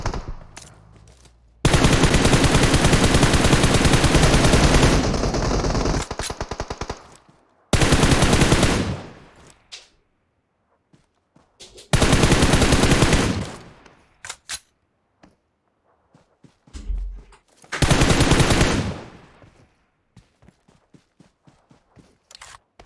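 Mobile battle royale game gunfire: long sustained automatic bursts, loud and close, broken by shorter volleys and gaps of quiet, with a final burst near the end.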